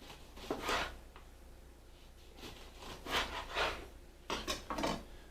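A knife trims the end off a lemon on a board for fish head soup, giving a few short scraping, rasping cuts in separate bursts, close and fairly quiet.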